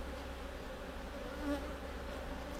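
Honeybees in an opened queenless hive with hatching brood, a faint, steady, close buzzing drone that swells slightly midway.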